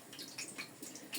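Hands are rinsed with a small amount of tap water in a kitchen while shaping falafel dough, giving soft, quiet splashes and drips in a few short bursts, with no talk.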